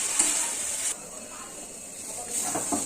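Pea greens (motor shak) fry in a pan with a steady, fairly loud sizzling hiss that drops slightly partway through and swells again, with faint stirring scrapes near the end.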